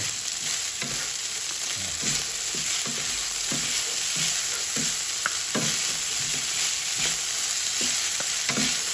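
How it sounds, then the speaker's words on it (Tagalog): Fried rice sizzles in margarine in a pan, with a steady crackling fry and repeated scraping stir strokes in an irregular rhythm, close and clear and with no talking. "Then, add more margarine. Then, fry it."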